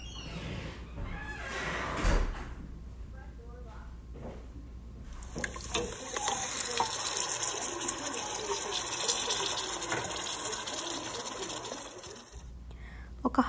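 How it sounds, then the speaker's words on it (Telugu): Coconut milk and water are poured into a cooking pot for Thai red chicken curry, giving a gushing, liquid pour that runs for several seconds, with a voice speaking over it at times. "ఒక హాఫ్ టిన్ కోకోనట్ మిల్క్ వేసాను, ఒక హాఫ్ టిన్ వాటర్ వేసాను"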